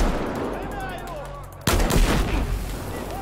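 Noise grenade in Battlefield 4 going off with a sudden loud, sharp blast midway through, followed by a rumbling, noisy tail over quieter background game sounds.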